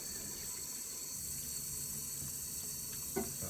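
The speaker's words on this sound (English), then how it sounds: "Oh, she heard me turn the water on." A kitchen water tap runs in a steady, even hiss of flowing water, close and moderate in level, with a brief knock near the end and no one talking.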